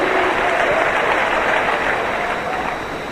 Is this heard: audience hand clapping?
yes